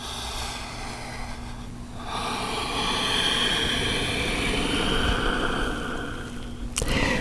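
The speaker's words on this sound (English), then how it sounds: "You can listen to your breath if you're using Ujjayi breathing." Ujjayi breathing during a yoga stretch: a long, steady, hissing ocean-like breath through a narrowed throat that swells and holds for several seconds before easing off, close and with no talk.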